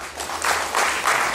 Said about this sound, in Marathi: टाळी वाजवत आहे.